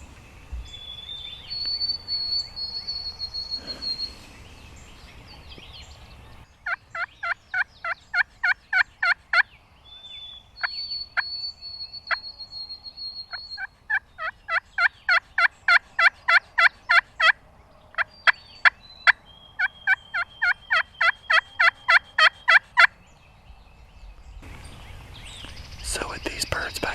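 Wild turkeys gobbling in the Tennessee woods on the opening day of spring turkey season, heard as repeated rapid rattling bursts that come in several volleys at moderate distance over quiet ambience.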